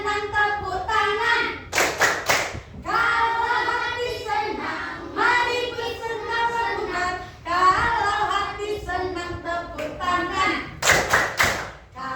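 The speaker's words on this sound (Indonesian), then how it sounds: "Kalau hati senang tepuk tangan." A classroom group claps in short bursts between stretches of singing the Indonesian children's song 'Kalau hati senang', with sharp rhythmic hand claps standing out near the start and end.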